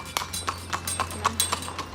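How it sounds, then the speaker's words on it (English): A horse pulls a cart through the town of Viñales, Cuba, its hooves clip-clopping in a steady, even rhythm of about eight strikes at moderate distance over a low background hum. "people get by on horse and cart around here"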